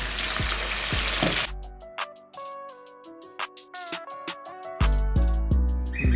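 Shrimp frying in a pan, a loud steady sizzle that breaks off into a run of sharp clinking taps before the sizzle returns.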